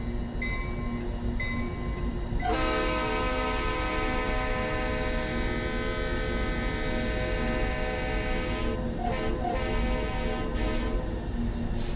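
An EMD SD40-2 diesel locomotive in Train Simulator 2019 holds a steady, loud engine drone with a strong tonal hum throughout, preceded by a couple of brief clanks at the start.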